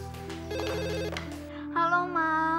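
A telephone rings indoors with an electronic ringtone melody, a repeating warbling pattern that shifts in pitch, moderately loud and without speech.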